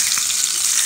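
Ribeye steak browning in butter in a hot pan, a steady bright sizzle and crackle filling the short stretch without pause.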